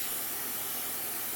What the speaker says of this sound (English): Okay, compressor's running.